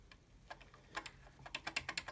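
Keys struck on a Commodore Plus 4 home computer keyboard with a cheap, mushy feel, a quiet close run of irregular clicks that speeds into a quicker burst near the end, with no voices.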